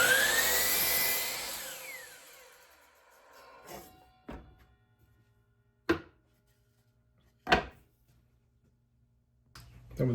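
A power saw rips through wooden boards for a hanging bench planter, one loud, whining cut that spins down over a couple of seconds, then a quiet stretch with several sharp thuds and clunks as the boards are handled.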